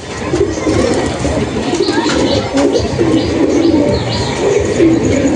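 Madras pigeons coo in soft repeated low calls close by, with a few higher chirps and steady background noise, and no speech is heard.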